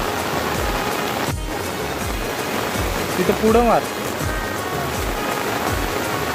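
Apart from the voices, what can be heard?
rain falling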